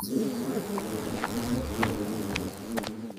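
A fly buzzes in flight, a steady droning hum close by that wavers in pitch as it moves, with a few faint clicks over it.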